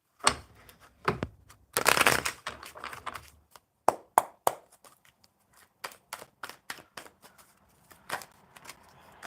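A deck of tarot cards is shuffled by hand in a series of quick riffles, taps and slaps, close up in irregular bursts with short pauses between.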